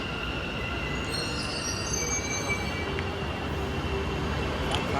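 A Bangalore metro train rolls past close by: a loud, steady rumble with high metallic wheel squeals ringing over it throughout.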